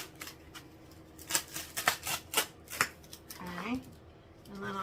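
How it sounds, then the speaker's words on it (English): Scissors snip through a paper picture in a quick run of crisp cuts, close and distinct, with some rustling of the paper and a brief voice near the end. "You can do it with scissors also."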